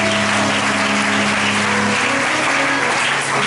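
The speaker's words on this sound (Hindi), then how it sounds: "जोरदार ताली बजाओ" Loud, sustained applause from a church congregation during a healing prayer service, continuing steadily with a dense wash of claps and a low hum of music beneath.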